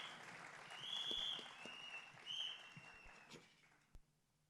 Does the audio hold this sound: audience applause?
yes